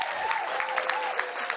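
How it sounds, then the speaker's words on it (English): A crowd at a gala bursts into a brief, steady round of applause, dense clapping throughout with a faint tonal whoop riding over it. "round of applause"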